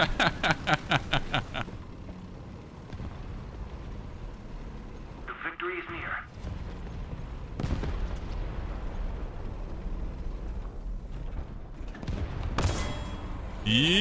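Bursts of rapid video game gunfire from an 8.8 cm Flak 37 self-propelled gun on an 18-ton halftrack game crackle over a busy synthetic soundscape while a person talks throughout.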